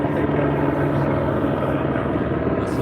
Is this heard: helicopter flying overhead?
yes